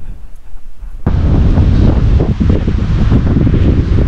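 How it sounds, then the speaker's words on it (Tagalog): Strong gusting wind on a mountain road between Ilocos Norte and Apayao buffets the microphone, a sudden loud roaring rush that starts after a quieter moment and stays heavy and continuous. "Ang lakas na ng hangin, guys."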